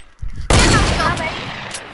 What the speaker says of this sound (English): I got shot at.